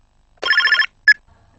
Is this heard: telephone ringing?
yes